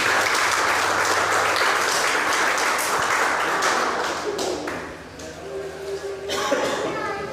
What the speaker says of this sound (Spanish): Denle fuerte el aplauso del Señor.